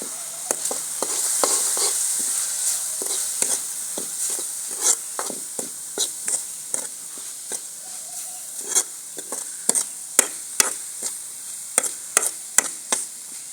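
Spices such as chili and turmeric roasting in a pan for village-style Punjabi chana masala chaat, with steady sizzling under repeated scraping stirs, each stroke a sharp clatter against the metal.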